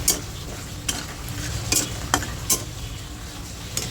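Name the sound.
frying lentil dumplings in a pan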